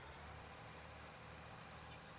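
A video game tractor accelerating, its heavy engine droning continuously, a dense low rumble that holds fairly steady, slightly stronger at the start.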